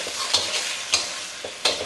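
Egg for Thai fried rice with pork sizzles in a hot pan. Several sharp scraping strokes of a utensil cut through the steady frying hiss, and no one speaks.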